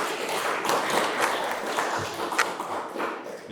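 An audience at an economics education conference applauds two guests, a moderate, even patter of clapping that fills the room and carries on without pause.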